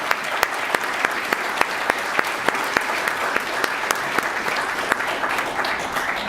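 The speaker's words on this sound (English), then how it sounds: "Let's give a round of applause." An audience at an Earth Day climate action event applauds, a steady close-up patter of many hands with distinct individual claps standing out, sustained for several seconds.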